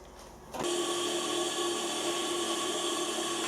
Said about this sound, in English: I'll curve one in, we'll put it in and machine it.